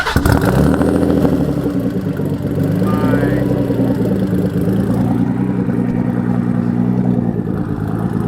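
A car engine cranks and catches, then settles into a loud, rough, rumbling idle close by that continues steadily.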